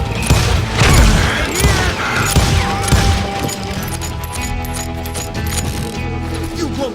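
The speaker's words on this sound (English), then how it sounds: "They're shooting in the street!" A street gunfight in Call of Juarez: Gunslinger, with a dense rattle of overlapping shots and clanking mechanisms at the start that thins into a busy, noisy background, with shouting voices mixed in.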